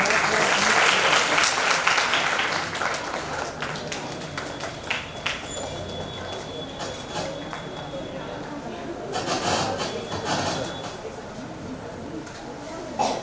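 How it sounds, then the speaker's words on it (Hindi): Audience applause at a lamp-lighting ceremony opening a theatre event in Hajipur, a dense crackle of many hands that fills the room, loudest at first and then settling to a steady level, with faint talk underneath. "ताली बजाइए आप लोग।"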